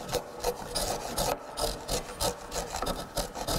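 A chisel makes short stabbing cuts into wood, giving rapid rasping, scraping strokes in a steady rhythm. The sound is close and continuous with no voices.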